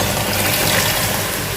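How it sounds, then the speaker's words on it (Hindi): Three glasses of water pour into a pot of fried biryani masala and meat, a continuous loud gushing splash close by that holds steady for the whole moment. "अब इसमें मैं डाल दूंगी 3 गिलास पानी"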